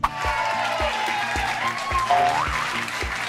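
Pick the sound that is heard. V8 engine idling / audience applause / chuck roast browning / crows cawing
audience applause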